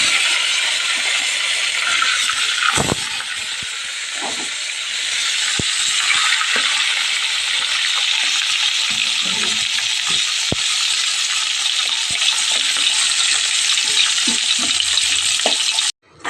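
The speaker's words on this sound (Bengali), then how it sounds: "মাছগুলো সব ভাজা হয়ে গেছে আমার।" Small fish coated in salt and turmeric sizzle as they fry in hot mustard oil in a wok, a steady, loud crackling hiss that runs almost unbroken, with occasional clinks and faint stirring knocks.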